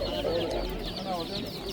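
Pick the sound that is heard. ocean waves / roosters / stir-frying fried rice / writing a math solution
roosters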